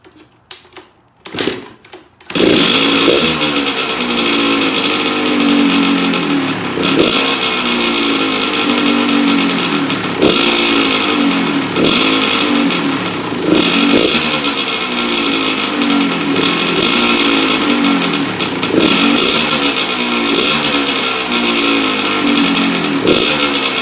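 A Kawasaki KX100/KX85 two-stroke dirt bike engine starts after a few sputtering attempts, then idles loudly and steadily up close with a busy rattling drone and occasional small revs, during carburetor and air filter maintenance.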